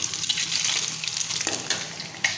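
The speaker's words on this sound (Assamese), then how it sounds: "কণীকেইটা এনেদৰে অলপ ফ্ৰাই কৰি আছোঁ" Eggs frying in a hot pan alongside tomato, garlic and ginger, giving a close, steady sizzle with occasional stirring scrapes and crackles, no talking.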